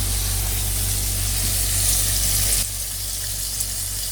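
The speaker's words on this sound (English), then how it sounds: "Cook your yogurt on a low flame, on a very, very gentle flame, because you don't want to split it." A yogurt sauce cooks gently over a low flame in a karahi, giving a steady, close sizzle and hiss that drops a little in level partway through, with no talking.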